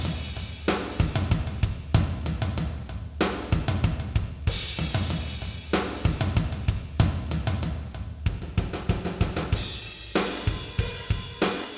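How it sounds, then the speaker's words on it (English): A drum kit plays a busy solo of rapid kick and snare hits with crashing cymbals, driving and loud, with no voices. "drum solo sounds like this here"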